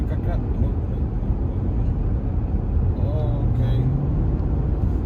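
A 2019 Jeep Grand Cherokee Summit accelerating, heard as a loud, steady roar of engine and road noise from inside the car, with a rising whine partway through.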